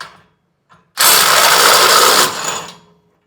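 A DeWalt impact driver fires a loud burst of rapid hammering for over a second, then tapers off; a faint earlier rattle precedes it, with no voices.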